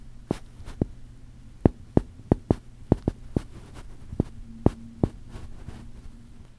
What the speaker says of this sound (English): That piece of plastic makes a squeaking noise when rubbing against fabric.